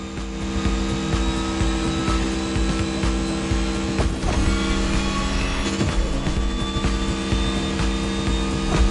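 A Mercedes EQ Silver Arrow electric car drives in The Crew Motorfest, giving a loud, steady electric drive hum with layered tones that hold throughout, slightly rougher around the midpoint.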